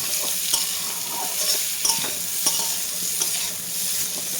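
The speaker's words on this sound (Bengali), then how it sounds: "এটাকে ভালোভাবে নাড়াচাড়া করে নেব।" Potato chorchori with mustard and peanut paste frying in a pan, a steady close sizzle with soft scraping stirs at regular intervals, no talking.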